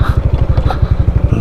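An off-road motorcycle rides an unpaved road, close and loud, its engine thumping in a fast, even pulse with rattling and scraping over the rough surface.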